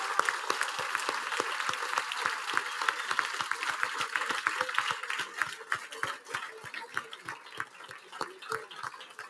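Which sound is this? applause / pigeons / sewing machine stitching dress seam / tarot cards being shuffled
applause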